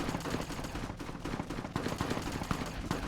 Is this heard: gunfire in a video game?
yes